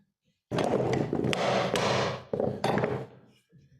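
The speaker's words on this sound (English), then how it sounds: "So I'm going to release the hold fast by hitting it on the back end." A woodworker's holdfast is knocked loose with a mallet blow on its back end, heard as a few loud close thuds and taps on a wooden bench, followed by a brief ringing decay.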